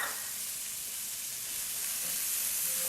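Onions frying in burger drippings, giving a continuous soft hiss of sizzling fat, fairly quiet and even with no talking.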